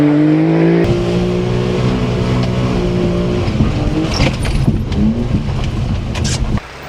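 A mini truck engine revs loudly on a race track, its tone climbing then settling into a rough, fluttering drone. Other engine and tire noise joins in before the sound drops off abruptly at the end.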